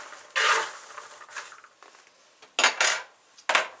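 Air-popped popcorn seasoned with butter and salt is tossed in a bowl, giving a few brief, close rattling rustles separated by short pauses, with no talk.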